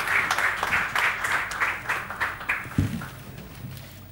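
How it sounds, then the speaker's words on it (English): Audience at an award felicitation event claps in a loose rhythmic burst that thins out toward the end, with a few scattered claps and a thump near the close. "A big round of applause for Saif Ali Khan."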